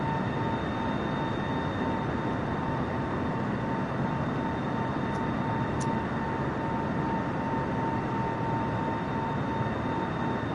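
An airplane climbing after takeoff in a flight simulator game, a steady loud engine roar with constant tonal hum, unchanging throughout, with two faint clicks midway.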